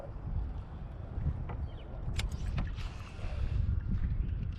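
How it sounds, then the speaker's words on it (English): Wind gusts buffet the microphone on a lake while a person bass fishes from a kayak in early spring, a low rumbling roar with faint splashes and knocks, steady and fairly quiet throughout. "Yeah, now that it's gotten windy,"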